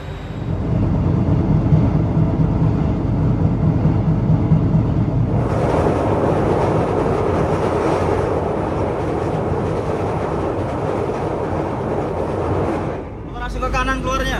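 The YIA airport train to Yogyakarta rumbles steadily from inside the carriage, with a deep rolling drone that swells louder and hissier partway through before dropping away near the end, as a voice speaks faintly underneath.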